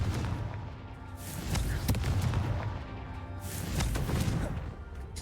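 Confringo blasting spell explosions in Hogwarts Legacy, two loud rumbling blasts a couple of seconds apart, each swelling and decaying with crackling debris over a low boom.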